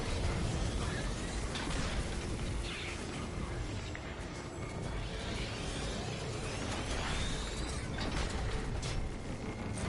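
A tank rolls and grinds inside the Destiny 2 video game, a steady, loud mechanical rumble with creaking, clanking tread-like rattles running throughout without any talking.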